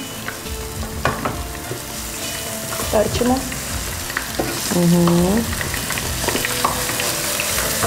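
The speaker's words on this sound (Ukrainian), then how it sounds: "Вершки закипіли." Cream with onions simmering and sizzling in a pan, a steady hiss of frying with stirring clatter, while people talk briefly over it.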